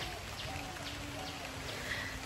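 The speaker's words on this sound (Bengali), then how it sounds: "বৃষ্টি পড়ছে।" Steady rain falling outside a home in Siliguri, a continuous even hiss with soft patter that holds throughout, with a faint voice now and then.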